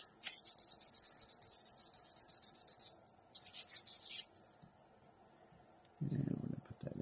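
Close, rhythmic sanding strokes roughen the surface of a 1/4-scale model part, a quick series of scratchy rubs that pause briefly before a louder thump near the end.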